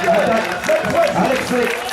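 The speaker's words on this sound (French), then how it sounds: "On les applaudit très fort." Crowd applause at a velodrome during a cycling race, steady clapping under a loud French announcer's commentary throughout.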